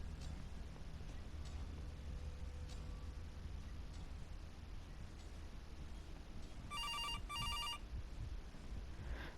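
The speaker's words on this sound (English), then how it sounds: "Go inside and just wait for the phone to ring." In the CASE: Animatronics horror game, a telephone gives two quick electronic rings near the end, after a stretch of quiet, hissy background.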